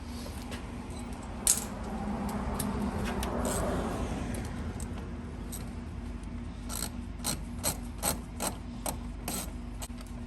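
A ratchet wrench tightens a battery terminal on a Toyota Tundra. Close, rapid clicking comes in quick bursts, with a brief metallic clink before it starts.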